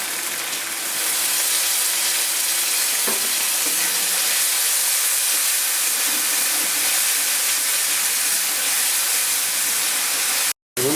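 Spice paste with ground green chili frying in a pan for stuffed pointed gourd, a loud steady hissing sizzle that runs evenly for several seconds, with one soft knock partway through and a brief cut near the end.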